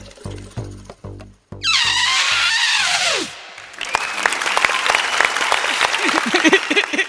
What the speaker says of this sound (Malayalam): ആദ്യമായിട്ട് കയ്യടി കിട്ടുന്നത്